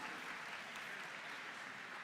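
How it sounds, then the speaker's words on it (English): A dense, continuous wash of audience applause for Alliance 2 at a robotics competition, sounding fairly distant and even throughout with no distinct individual claps. "Round of applause for Alliance 2"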